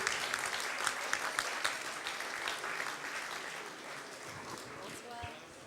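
Steady applause from a crowd fills the whole stretch, dense clapping that fades slightly toward the end, with a few voices mixed in.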